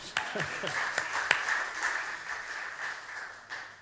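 An audience at a live show applauds the lighting operator, a few sharp claps at the start followed by a softer, steady wash of clapping with some talk mixed in.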